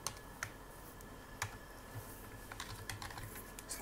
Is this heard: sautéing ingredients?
no